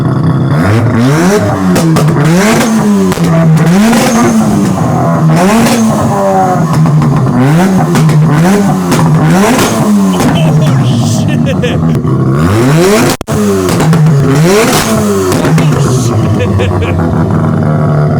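A rebuilt Mazda RX7 rotary engine revs loudly and repeatedly, rising and falling in steady cycles up close, with talking mixed in over the engine.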